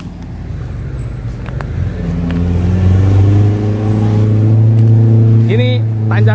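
A DFSK 580 SUV climbs a steep incline of more than 40 percent, its engine droning loud and close with a rising, straining tone that holds steady as the revs build.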